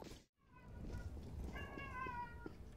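A cat meows once, a drawn-out call rising over a steady background hum while a Counter-Strike game plays, fairly faint and without talk over it.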